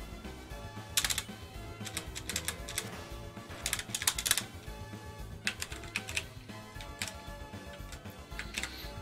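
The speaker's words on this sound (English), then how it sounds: "it doesn't help I'm using a keyboard, and I'm not used to using a keyboard to dodge attacks" Computer keyboard keys clack in quick irregular bursts during Undertale play, close and crisp, with brief pauses between flurries of presses over a low background murmur.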